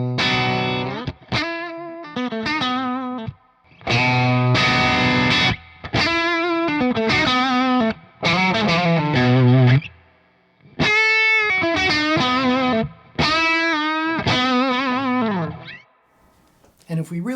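Electric guitar through a hand-wired Badcat Cub V EL34 tube amp with a Klon KTR overdrive pedal plays loud, driven chords and riffs in bursts with brief pauses between them.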